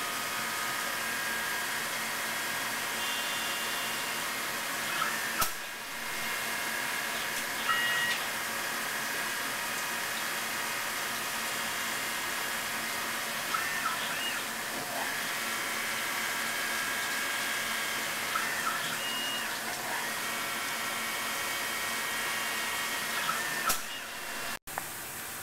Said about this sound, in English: OD is ground on CNC machines using a particular program which is called up from the machine's memory